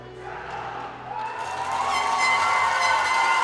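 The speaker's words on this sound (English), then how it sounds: "there's a loud and vocal contingent of Czech fans here as well" Czech fans in a packed ball hockey arena at a junior championship gold medal game cheer loudly, a dense crowd roar that swells and grows louder toward the end.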